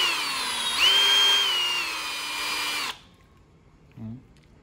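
A Milwaukee M12 FUEL hammer drill whines loudly and steadily for about three seconds, rising in pitch as it speeds up, then cuts off, leaving near-silence with a brief low thump.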